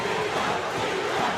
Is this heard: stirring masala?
no